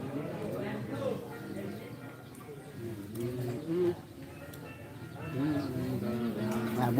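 Pigeons or doves coo repeatedly, soft and low, with other birds calling among them at a live outdoor bird-song event. A continuous murmur of background noise runs underneath.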